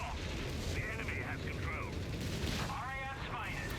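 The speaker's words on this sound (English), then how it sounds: "Pack guns are opening fire on the Pershing" Anti-tank gunfire from a Company of Heroes 3 match on Longstop Hill, with pack guns firing on a Pershing tank. Dense, continuous battle noise with repeated shots and booms runs throughout, while a voice talks over it.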